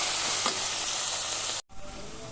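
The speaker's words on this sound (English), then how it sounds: "stir these onions till they become nice and golden brown" Onions sizzling steadily in hot oil for a curry base while being stirred, a dense continuous frying hiss with a faint scrape, cutting out abruptly near the end and resuming more quietly.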